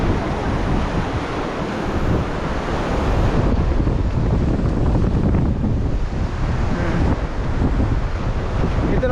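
Strong typhoon winds and surf pound a shoreline during Typhoon Kristine, a loud continuous roar of gusts buffeting the microphone over crashing waves, with no pause.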